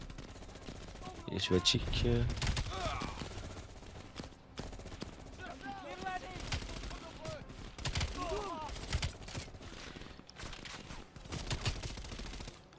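Gunfire from a weapon in Call of Duty Black Ops comes in sharp bursts, loudest in the first seconds, with quieter shots later while voices talk over the game.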